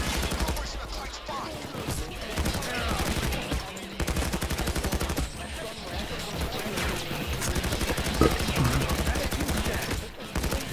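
Rapid video game gunfire crackles almost nonstop, dense bursts and volleys from several weapons overlapping with clatter and impacts, fairly loud throughout, with voices talking underneath.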